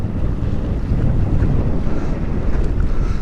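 Strong wind buffets a fishing boat during planer trolling off Port O'Connor, Texas, a loud, continuous low roar with rushing gusts and water noise close to the microphone.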